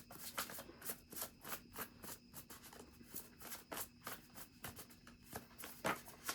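Tarot cards being shuffled by hand, a soft, close, steady riffling and patting in rhythmic pulses with a faint steady hum underneath.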